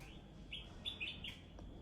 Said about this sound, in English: I know y'all hear my bird friends greeting me this morning.